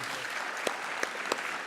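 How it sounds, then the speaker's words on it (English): An audience at a keynote interview applauds in a steady, even wash of clapping. A few sharper individual claps stand out near the end, and no one speaks over it. "I'm going to ask you to clap again."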